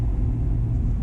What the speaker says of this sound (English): We got a truck pulling out right now.